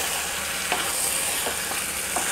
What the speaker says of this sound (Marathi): मिक्स करून घेऊ मस्त, तो मसाला त्या पूर्ण चिकनला अगदी आजूबाजूला सगळ्या बाजूला लागला पाहिजे।